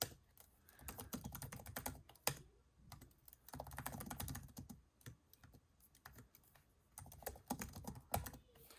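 Bursts of rapid typing on a Lenovo ThinkBook 14 laptop keyboard, clicky keystrokes in quick runs separated by brief pauses, close and fairly quiet.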